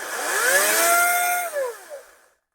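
A Dong Cheng 40V brushless cordless chainsaw with a 16-inch Oregon bar whines at a high, steady pitch, then winds down over about a second, dipping and fading out to silence.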